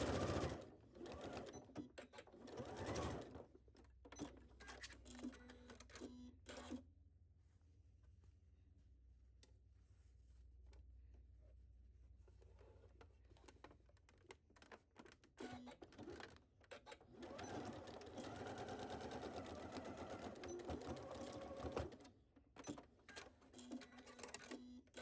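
A sewing machine running a basting stitch along a cargo skirt seam, faint rapid mechanical clatter in bursts, strongest at the start and again in a longer run near the end, with quiet gaps between.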